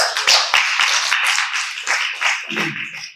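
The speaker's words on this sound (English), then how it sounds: "let's give a round of applause" Applause from a conference panel audience, a few crisp claps close by at first, then a thinning patter that fades out toward the end with a brief voice.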